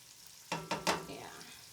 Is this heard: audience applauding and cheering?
no